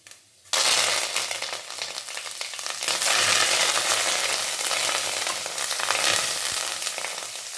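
Loud, dense sizzling crackle of cumin seeds and curry leaves frying in hot oil for a pongal tempering, starting abruptly and holding steady with spattering pops, close by and without talk.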